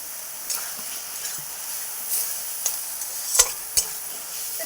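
Prawns added to a hot pan with kochu shak sizzle steadily while a spoon scrapes and stirs, with a few sharper clinks and hissing bursts standing out over the continuous frying.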